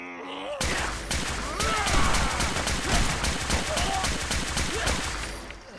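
Sustained enemy machine gun fire in Fallout 4, a loud, rapid, evenly spaced stream of shots that starts abruptly and runs for several seconds, with voices faintly underneath.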